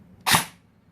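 A Celcius AKM airsoft gun with an electronic installation fires one sharp, close semi-auto shot, a single short crack standing alone in a quiet room.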